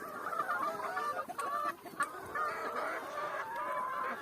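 Several chickens cluck steadily and continuously at close range on a muddy farm in cool weather after rain, with occasional sharper squawks rising above the flock's murmuring.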